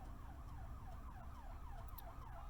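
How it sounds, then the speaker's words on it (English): A siren wails repeatedly in the distance, its pitch rising and falling steadily over low rumbling traffic noise. "There are sirens coming."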